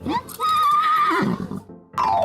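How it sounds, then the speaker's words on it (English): A horse whinnies in a loud, wavering neigh that rises and falls over about two seconds, heard alone, as an example of a horse sound for a children's alphabet lesson. "horse."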